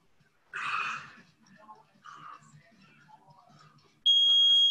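A workout timer lets out a sharp, steady electronic beep at the end, right after a person speaks during a live no-equipment exercise session.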